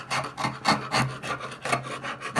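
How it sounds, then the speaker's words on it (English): Scraping old paint layers off an 1800s wooden coat rack, a series of rough rasping strokes repeating in an uneven rhythm, close and fairly loud with no talk. "so I'm scraping it down, and I think I'm scraping"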